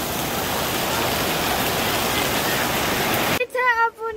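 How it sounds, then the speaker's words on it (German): Heavy rain pours down in Phuket during a flood, a loud, steady roaring hiss that fills the first few seconds before cutting away to a nearby voice. "Regnet schon wieder wie die Sau."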